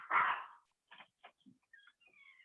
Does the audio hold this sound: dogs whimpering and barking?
yes